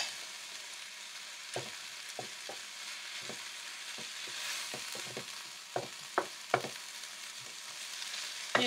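Tomatoes fry for keema in a pan with a constant soft sizzle, broken by frequent light clicks and scrapes of stirring that grow a little sharper toward the end.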